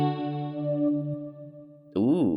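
A Wii Internet Channel jingle plays on an emulated Wii menu, a short sustained tonal chime that fades and then gives way to a brief warbling, wavering electronic tone.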